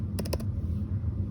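Four quick keystrokes on a computer keyboard, typing a color name into a design app, clicking close and crisp over a steady low background hum, then quiet.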